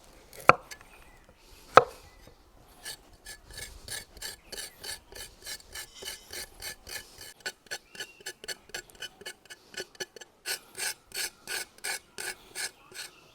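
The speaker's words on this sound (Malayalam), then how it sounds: "നമുക്ക് ഇഞ്ചിയുടെ തൊലി ഒന്ന് ചിരണ്ടി ഒന്ന് വൃത്തിയാക്കി എടുക്കാം. നമുക്ക് ഈ ക്യാരറ്റ് കൂടെ ഒന്ന് ചിരണ്ടി വൃത്തിയാക്കാം." Ginger and carrot being scraped with a knife to remove the peel, a long run of quick rhythmic rasping strokes, close and crisp, following two sharp knocks at the start.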